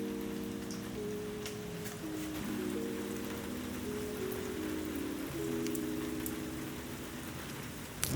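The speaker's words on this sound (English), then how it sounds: "Of course, you can see it's raining" Steady rain falls outside on a wet day, a continuous soft hiss of drops with scattered sharper taps, heard alone at a low level with a faint low hum in the background.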